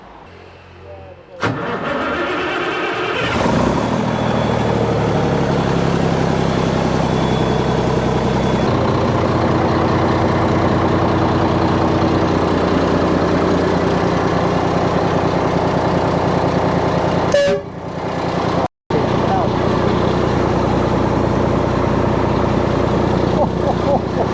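Foden truck with a Cummins engine starting up and running at a loud steady roar close by, with a brief dropout near the end.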